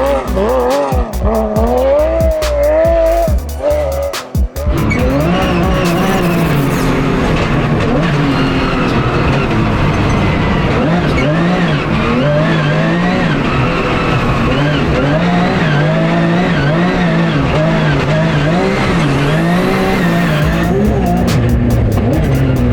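Porsche GT3 Cup race car drifting on dirt in a rally speedrun: a loud, continuous engine roar with rising and falling revs, gear changes and tire noise. A brief choppy stretch comes early, then a sustained high-revving run to the end.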